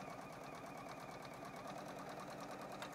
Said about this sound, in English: as I come under the presser foot of the machine, I'm going to sew from that bottom corner up through the top